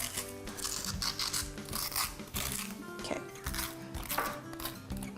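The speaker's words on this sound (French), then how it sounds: "je vais gratter comme il faut, mettre ça dans le bol ici" Cooked spaghetti squash flesh scraped from its shell into a bowl, with repeated close rasping scrapes in an uneven rhythm and a faint voice in the background.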